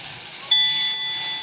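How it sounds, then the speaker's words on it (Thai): A Line Notify alert chime from a smart blue swimming crab breeding system, heard as a single bright ringing tone that starts abruptly and sustains for about a second over faint background noise. "ระบบนะคะก็จะแจ้งเตือนไปยัง Line Notify ของผู้ใช้ค่ะ"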